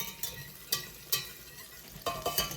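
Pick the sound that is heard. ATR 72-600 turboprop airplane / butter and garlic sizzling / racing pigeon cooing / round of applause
butter and garlic sizzling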